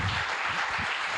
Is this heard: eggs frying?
no